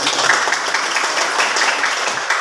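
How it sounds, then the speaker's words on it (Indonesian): A classroom of students claps their hands together, a dense, steady patter of many hands that holds evenly from start to finish with no voices over it. "Silakan kita tepuk tangan dulu."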